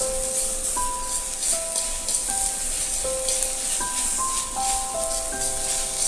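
Drumstick leaves cook in a pan with a continuous soft sizzle and hiss, while a tinkling melodic tune plays along over it throughout.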